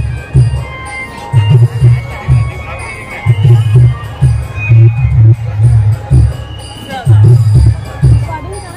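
Crowd bustle at the Shivrinarayan fair at night: a loud, close hubbub of many voices and movement, with nearby people chatting throughout.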